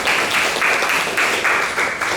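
Students in a systems programming lecture hall applaud after a first C program finishes, a loud, dense patter of clapping with a rhythmic pulse of a few nearby hands.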